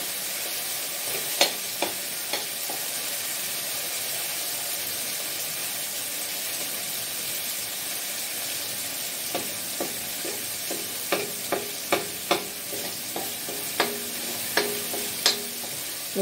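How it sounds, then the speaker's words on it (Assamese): Ginger garlic paste sizzles and hisses steadily in a pan. A utensil scrapes and taps against the pan in scattered clicks, heavier toward the end. "আদা নহৰু পেষ্ট দি দিছোঁ।"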